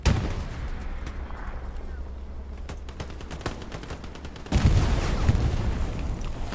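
A satchel charge explodes in the World War II shooter Hell Let Loose: a sharp, loud boom followed by a rumbling tail, set among scattered distant gunfire and battlefield ambience.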